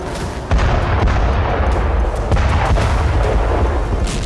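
Heavy artillery fire from the Russia-Ukraine war booms repeatedly, with distant explosions and sharp blasts layered over a constant rumbling roar.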